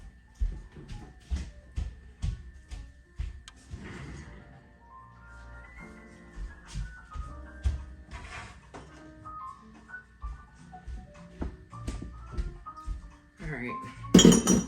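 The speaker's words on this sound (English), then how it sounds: "So I like to try to clear the dish rack first." Dishes, cups and utensils are cleared from a kitchen dish rack in a busy family home, with a steady run of clinks, taps and knocks from nearby, occasional louder clatters, and talk over the top.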